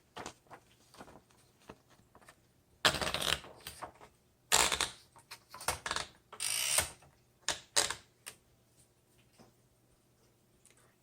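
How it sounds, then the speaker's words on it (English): Paper is loaded into a 1971 Remington Ten Forty typewriter, with clicking, ratcheting platen and carriage mechanisms in short irregular bursts between quiet gaps, close up and with no talk. "Now let's go ahead and load our paper and type on it."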